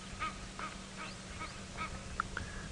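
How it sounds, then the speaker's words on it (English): Faint, distant Egyptian geese give a run of repeated nasal honks at an even pace over a low background hum. "I think the sound of those Egyptian geese"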